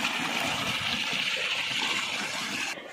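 Irrigation water runs steadily through a farm field, a continuous close rushing gush that holds even for nearly three seconds and then drops abruptly to a softer flow.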